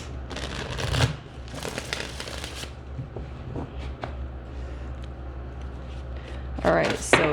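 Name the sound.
shuffling a tarot card deck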